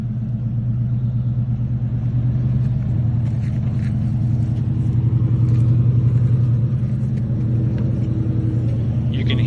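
A V8 engine rumbles as a continuous low, throaty drone, steady and fairly loud throughout, with faint higher clatter above it and no voices.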